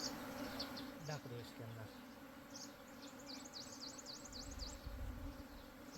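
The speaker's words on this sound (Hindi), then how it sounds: "अब मधुमक्खी जितनी हवा में उड़ गई थोड़ी सी, वो खुद इसके अंदर वापस आ जाएगी" A honey bee swarm being gathered into a cloth gives off a faint, wavering buzz of insects circling close by, with someone speaking briefly over it.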